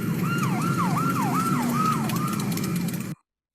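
A California Highway Patrol car's wailing siren sweeps up and down repeatedly over a steady road rumble, loud and close, then cuts off abruptly near the end.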